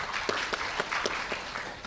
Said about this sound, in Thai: ขอเสียงปรบมือให้คุณปัทมาสุขกำปังครับ